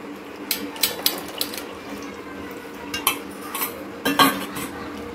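A spoon mixes patra batter with lemon juice in a bowl, making irregular metallic clinks and scrapes, with a few louder knocks near the end.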